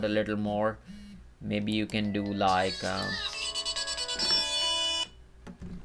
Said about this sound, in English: That was my phone going on.